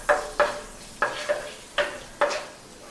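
Finely chopped garlic fries in melted butter for a white sauce chicken pasta, with six quick, close stirring scrapes in an uneven rhythm over a faint sizzle.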